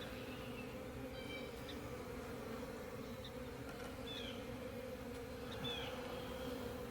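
Honey bees in a hive with drone-laying workers, a constant dense buzz with a few individual bees droning past close by.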